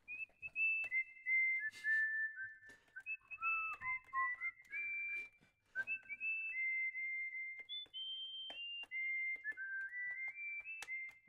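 A person whistles a song alone, clear melodic notes stepping up and down in short phrases with small gaps, fairly quiet and close, with faint background noise.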